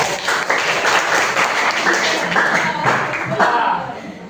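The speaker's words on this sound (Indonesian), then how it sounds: "Oke, tepuk tangan dulu dong." A classroom audience claps together, a dense, steady wash of applause that fills the whole stretch at close range and fades slightly at the end.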